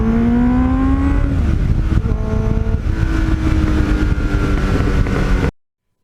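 A 1989 Kawasaki GPX750R Ninja motorcycle is ridden, its engine note rising and shifting through gears under heavy wind rush, loud and close until it stops abruptly.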